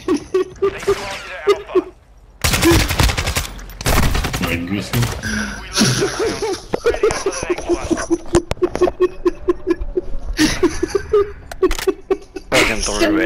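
Game gunfire from Call of Duty Modern Warfare 2 multiplayer: several sharp shots and short bursts scattered across the stretch, loud and close, mixed with frequent talk and laughter.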